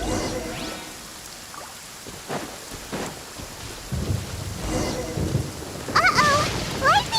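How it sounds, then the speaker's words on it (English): A lightning storm with rain in the video game Genshin Impact: steady rain hiss with sharp thunder cracks and rumbles, plus chirpy game effects near the end. "Uh-oh! Lightning storm!"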